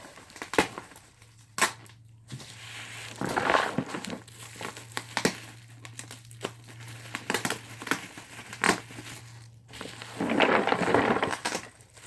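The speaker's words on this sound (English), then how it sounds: "Sounds like Legos." Small Lego pieces rattle and clatter inside a box in irregular bursts, with sharp clicks and crinkly shaking near the microphone, no one talking.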